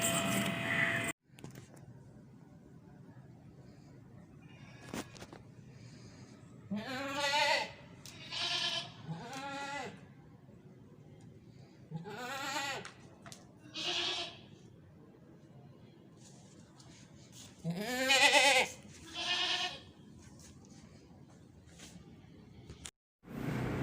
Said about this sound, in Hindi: दोनों बकरियां खाली हैं